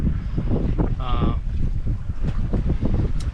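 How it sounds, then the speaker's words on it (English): Wind roars steadily past a sailboat under way, a loud, close buffeting rumble with brief creaks and a short tonal whine partway through. "The wind has been kind of variable, so it's been slow at times, fast at times."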